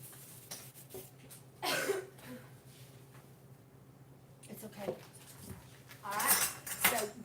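A utensil stirs bath salts in a container while soap and wedding favours are made, giving several short scraping, clinking bursts with quiet pauses between them; a person coughs or clears their throat faintly nearby.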